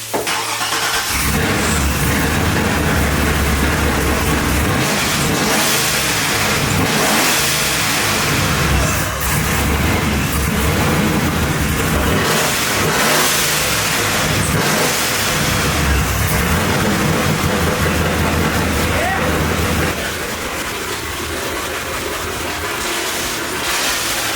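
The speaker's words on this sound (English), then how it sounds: "I want to hear Pro Charger noises." A pickup truck engine fitted with a ProCharger supercharger roars loudly and steadily up close for about twenty seconds, with surging revs, then settles to a slightly lower idle-like drone near the end.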